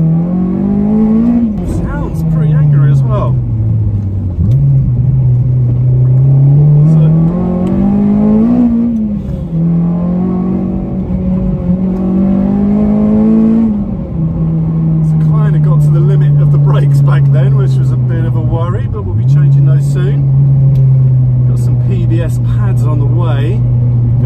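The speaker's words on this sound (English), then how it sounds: "it's a VTEC, so you kind of got to wring its neck" A modified Honda EP3 Civic Type R with a 270bhp K24 VTEC engine drones loudly from close by, its pitch climbing and dropping repeatedly as the revs build and fall through gear changes.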